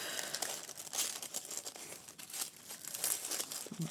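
Paper is crinkled and torn off a tarot card box, giving close, continuous rustling and ripping with sharp little tears throughout. The sound is fairly quiet and heard on its own.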